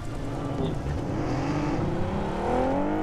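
A car engine in an online multiplayer shooter, a steady droning motor that rises in pitch toward the end as if accelerating, with faint background sounds.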